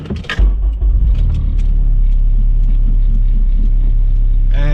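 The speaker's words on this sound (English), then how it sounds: "Car rattles a lot more now because I don't have the center console in here" Steady low engine rumble inside a moving Acura RSX with its center console removed, with a constant drone and faint rattling vibration throughout, no talking.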